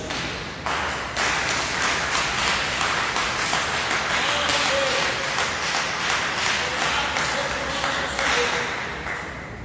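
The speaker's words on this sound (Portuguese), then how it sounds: "dê uma salva de palmas para Jesus" A church congregation applauds during a worship service, a dense, steady wash of many hands clapping that swells in quickly and holds at a fairly loud level for several seconds, with faint tonal sounds in the background.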